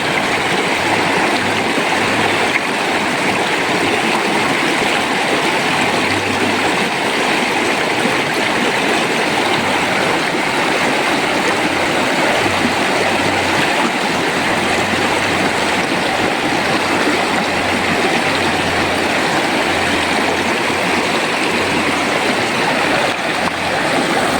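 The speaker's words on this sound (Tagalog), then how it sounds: "Welcome to Daraitan River." Steady rushing water from the Daraitan River in Tanay, Rizal, Philippines, a loud, continuous broadband flow without pauses that stays unchanged for the whole stretch.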